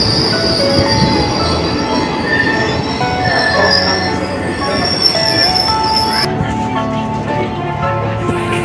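A train rolls along rails near Aurangabad, a loud continuous rumble with high squealing wheels and a metallic clatter, heard from on board. Voices are faintly present.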